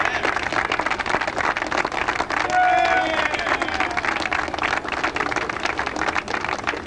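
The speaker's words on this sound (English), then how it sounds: "give them a round of applause for the support they've given you all through your career" A large crowd at a high school football pep rally on a field claps and cheers steadily, a dense continuous wash of applause with a brief whistle or whoop rising above it midway.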